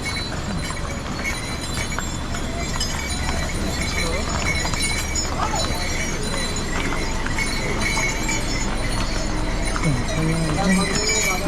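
Horses walk along the mountain pilgrimage trail to Kedarnath, their hooves clopping irregularly over stony ground amid busy outdoor noise, with people talking throughout.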